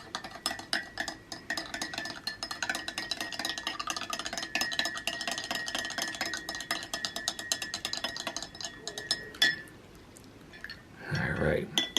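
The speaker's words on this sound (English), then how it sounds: "we're going to go ahead and use a different spoon to give her a mix" Spoon stirring a mix in a container, a long run of rapid, close metallic clinks and scrapes, followed by a brief rustle and a soft voice near the end.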